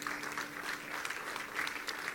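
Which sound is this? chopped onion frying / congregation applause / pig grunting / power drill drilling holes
congregation applause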